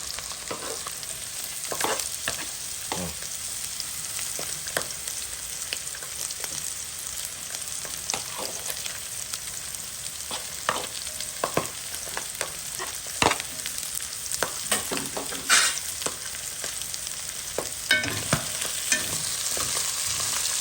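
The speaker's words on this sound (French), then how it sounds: "De mon oignon, je peux bien mélanger." Onion frying in a pan sizzles steadily while a spoon stirs it, with frequent irregular scrapes and clinks over about twenty seconds.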